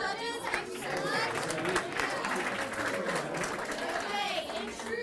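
Crowd applause for the judges at an NCSY JUMP boardroom finals event, dense clapping mixed with chatter and excited young voices.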